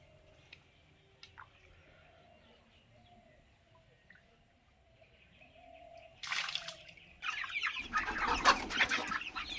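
Young chickens about two to two and a half months old cluck softly inside a coop as they are given water, with faint scattered calls before a louder burst of fluttering and splashing near the end.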